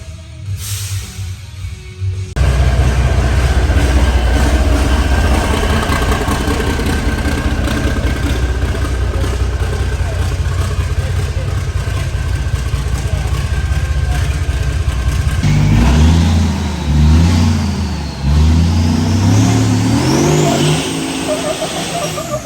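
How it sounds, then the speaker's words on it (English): A big rig race truck doing a line lock at a Labor Day weekend race roars loudly and close. The engine comes in abruptly, holds a sustained heavy drone, then revs and shifts with rising and falling pitch sweeps near the end. "Dad's up front doing a line lock right now."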